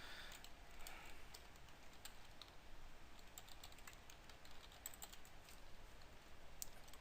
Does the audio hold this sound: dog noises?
no